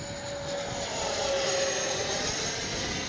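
A Flyfans SU-27 64mm electric ducted-fan RC jet whines steadily on landing approach, a sustained airy roar with a thin high tone, fairly close and holding level throughout.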